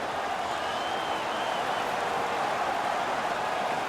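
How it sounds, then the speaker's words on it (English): A home crowd at a Toronto Maple Leafs playoff hockey game roars after a fight, a dense, steady wall of cheering and noise from thousands of fans that fills the arena for the full stretch. "The home crowd is ecstatic. They're making all kinds of noise."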